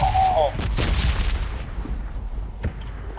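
Gunfire in PUBG Lite, with a couple of sharp shots close together near the start and a single fainter report later, over low background rumble.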